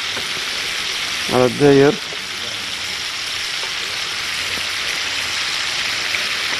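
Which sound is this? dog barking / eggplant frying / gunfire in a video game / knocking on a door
eggplant frying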